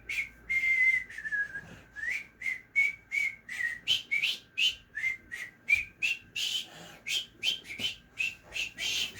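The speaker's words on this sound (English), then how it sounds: "And then I will whistle for Robin as we say goodbye." A person whistles a series of short, bright, rising notes in a quick regular rhythm, about two per second after a longer opening note, close and clear with no talking.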